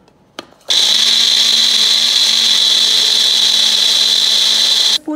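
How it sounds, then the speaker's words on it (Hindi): A mixer grinder whirs steadily, grinding a fine paste with a couple of tablespoons of milk added, loud and continuous for about four seconds after a brief click, then cutting off near the end. "2 टेबलस्पून इसमें मैं डालूंगी मिल्क और इसको अब फाइन पेस्ट के फॉर्म में हम ग्राइंड कर लेते हैं।"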